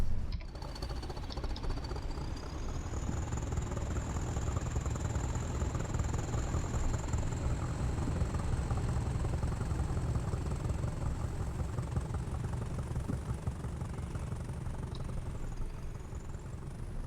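Train engine idling in the Train Sim World game, a steady low rumble and drone holding unbroken throughout with a faint high whine above, constant and close.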